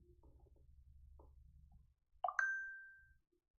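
A phone notification chimes once, a clear bright ding that rings out and fades over about a second, following low muffled background noise.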